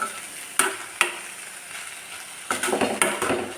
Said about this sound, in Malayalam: സവാളയും നാളികേരം കൂടി നന്നായിട്ട് മിക്സ് ചെയ്തെടുക്കാം.